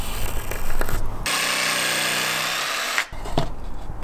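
A power drill drives screws into plywood inside a van, one sustained whirring run of nearly two seconds close up, framed by brief bumps and handling noise.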